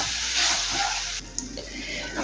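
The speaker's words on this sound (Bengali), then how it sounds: "অল্প করে জল দিয়ে মশলাটা কষিয়ে নেব।" Spice paste of mustard, ginger, garlic, green chilli and tomato frying in a pan, a loud hissing sizzle that drops sharply partway through to a quieter bubbling with a few stirring clicks.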